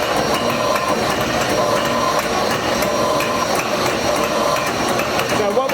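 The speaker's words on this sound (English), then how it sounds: "Now to start this, we basically press the pump." Graco Reactor 3 E-XP2 spray machine pump starting up, a steady loud mechanical rattle with dense rapid knocking that runs unbroken throughout, close by.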